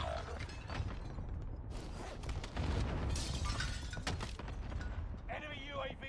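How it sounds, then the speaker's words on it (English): A flashbang grenade goes off in Call of Duty Warzone Rebirth, a sharp, shattering burst with a ringing, crackling tail amid game noise, while a player talks over it. "threw a flashbang"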